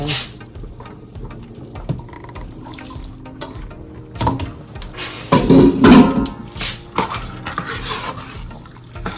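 Noodles tipped into a pan of melted block-cheese sauce for seafood pasta, giving a loud wet clatter and slosh in a burst near the middle, with lighter clinks and stirring scrapes around it.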